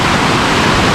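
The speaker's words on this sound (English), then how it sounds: "So we come across nice waterfall." A raging waterfall gives off a loud, steady roar of rushing water, a continuous broadband wash heard close up for a brief moment.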